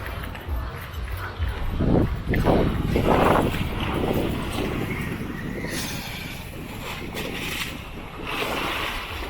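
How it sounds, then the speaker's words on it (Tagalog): Strong ocean waves at a beach with no lifeguard, a loud rushing wash that swells as a wave breaks, then settles into a steady churning roar with gusty wind noise. "Malakas ang alon."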